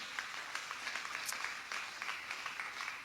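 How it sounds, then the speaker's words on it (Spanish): Congregation at a church service applauding for Jesus, a dense, steady wash of many hands clapping that sounds moderately distant and continues throughout without talk. "alabe a Jesús con ese aplauso fuerte"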